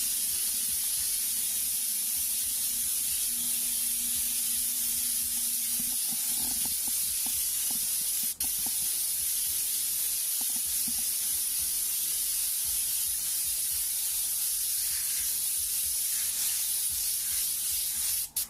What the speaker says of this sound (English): Nice wide spray when you're doing this.